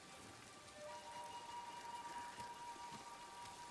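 Steady rain falls in the Ghost of Tsushima video game, a faint, even patter of drops hissing on surfaces throughout.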